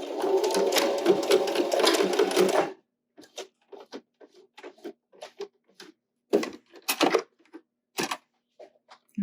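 Sewing machine running in a fast continuous burr while stitching a face mask near the nose piece, then stopping, followed by scattered small clicks and handling noises.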